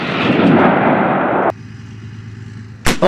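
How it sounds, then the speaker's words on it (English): An artillery gun fires ammunition near the end of its shelf life, a loud booming blast that roars for a second and a half then cuts off, followed by another sharp report at the end. "the ammunition is being fired because it's going to come towards the end of its shelf life"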